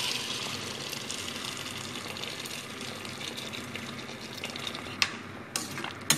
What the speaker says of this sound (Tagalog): Ayun, lagyan na natin ng tubig.